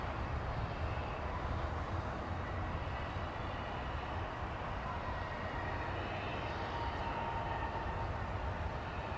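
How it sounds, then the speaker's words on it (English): An Embraer E-145 regional jet arriving from Grand Island passes overhead at Dallas Fort Worth airport, a steady distant roar that stays even for several seconds with no talk. "As we see that E-145 soaring overhead, which is arriving from Grand Island."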